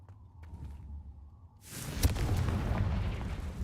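A Confringo fire spell explodes in the video game Hogwarts Legacy: a low game hum gives way to a sudden loud, booming burst that rumbles on for a couple of seconds.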